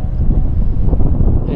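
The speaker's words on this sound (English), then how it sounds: "It's gonna be cold tonight if it's gonna be windy like this" Loud, blustery wind buffets the microphone, a constant low roar with gusting texture throughout.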